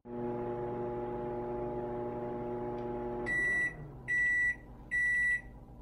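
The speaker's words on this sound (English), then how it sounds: "When heating anything in the microwave, your actual heating time can vary depending on your microwave" A microwave oven hums steadily while heating a container of soy candle wax, then stops and gives three sharp, evenly spaced beeps.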